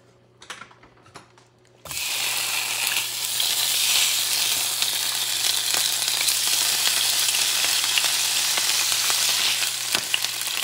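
Sardines dropping into a hot pan of tomato sauce and root vegetables with a sudden loud sizzle, then frying in a steady, close, crackling hiss for several seconds.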